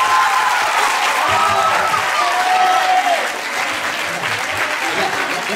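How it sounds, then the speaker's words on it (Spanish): Loud, dense applause from a school audience after a student performance of a song, steady throughout with some voices and cheering mixed in. "¡Un aplauso para él!"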